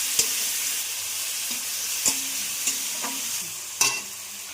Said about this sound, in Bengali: এবার দিয়ে দিচ্ছি আদা রসুন বাটা জিরে ধনে বাটা আর টমেটো বাটা